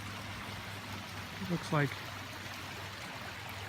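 A small creek near the Fraser River flows with a soft, continuous rushing wash in the background while someone briefly talks over it.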